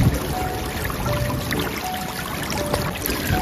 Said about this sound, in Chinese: 这水声好治愈啊